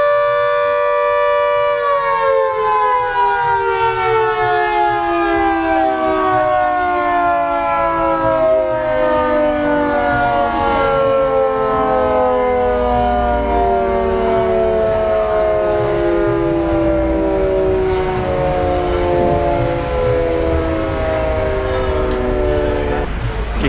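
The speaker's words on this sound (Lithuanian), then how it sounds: "Vieną dieną šita sirena skamba 12 dienos." A civil defense siren sounds its noon volcano warning, a loud sustained wail holding steady and then slowly sliding lower in pitch, filling the whole stretch without pause.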